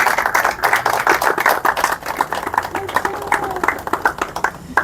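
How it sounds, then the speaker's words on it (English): Applause at an academy award cocktail event, a close, uneven patter of clapping hands from a small crowd with distinct individual claps, while voices murmur in the background. "Give yourselves a round of applause."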